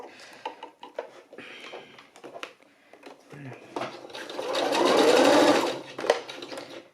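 A home sewing machine runs a short back-tack stitch while sewing a jumpsuit, a brief whirring burst of a second or two in the middle, with light handling clicks and rustles of fabric around it.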